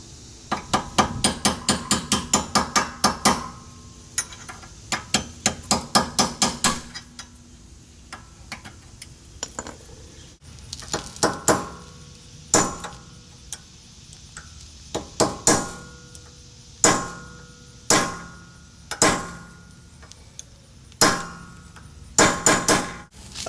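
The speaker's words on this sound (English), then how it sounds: "he used a chisel and worked his way around" A chisel hammered around the rear hub cap of a 2006 Honda Accord, sharp metallic strikes coming in rapid runs of blows early, then spaced single ringing hits, loud and close, without talk.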